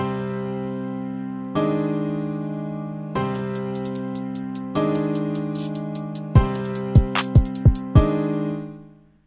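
A trap beat: sustained synth chords stacked under a programmed beat, with crisp rapid hi-hat rolls and deep booming bass hits entering partway through, loud and close.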